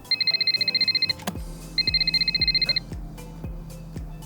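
A phone rings while a call is being placed, giving two bursts of rapid electronic trilling tones separated by a pause, heard over a steady rhythmic game-style music beat, with no talking.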